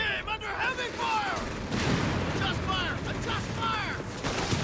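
Battlefield combat in the video game Company of Heroes 3, with booming artillery and bursts of gunfire over a dense, continuous war din, plus whistling shells and in-game radio voices calling out.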